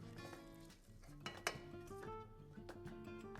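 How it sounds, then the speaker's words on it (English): Egg and potato mixture being stirred in a bowl for a Spanish tortilla, with close clinks and scrapes of a utensil against the dish, a couple of sharper knocks, and a low steady hum underneath. "we're going to stir this in right away so we don't start cooking the eggs"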